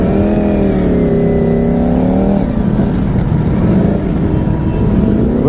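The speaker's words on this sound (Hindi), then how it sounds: "करोड़ों की मशीन दौड़ रही है रोड पे" Superbike engines rev and roar on a road at a bike event in Nepal, loud and continuous, with one engine's pitch sweeping down as machines pass close by.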